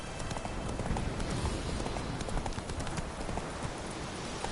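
Roach, the horse in the video game The Witcher 3: Wild Hunt, galloping with a fast, steady clip-clop of hooves over a rumbling, noisy background.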